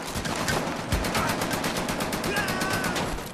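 Rapid automatic gunfire from the VR shooter Medal of Honor: Above and Beyond during a hydro plant level, loud sustained bursts mixed with sharp individual shots and a few overlapping game voices.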